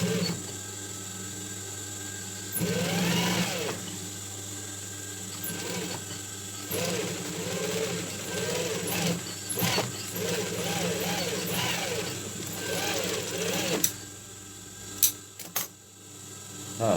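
Sewing machine stitching a fabric strap onto a handmade hat, a steady mechanical whirring with uneven bursts and pauses, close up with faint voice underneath at times.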